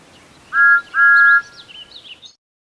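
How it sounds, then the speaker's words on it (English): A toy train engine whistle: two clear, close tones, a short one then a longer one, followed by faint warbling chirps that fade into silence. "Thomas heard a whistle. It was Gordon."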